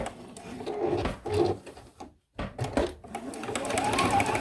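A sewing machine back stitching a quilt binding, running in short rhythmic bursts with a brief pause midway, close and fairly quiet.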